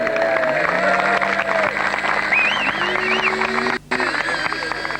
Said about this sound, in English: And as you can hear, the crowd were thoroughly enjoying that.